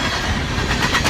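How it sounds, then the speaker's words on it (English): A train passes close by, filling the air with a loud, steady rumble and clatter of rail cars that swells slightly toward the end. "Doubt if you'll even be able to hear any of what I'm saying now with the train still passing."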